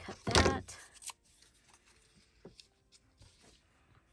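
Scissors cut through a typed book page in a few quick snips, one loud burst near the start and then softer, scattered paper rustles and clips, close up with no talking.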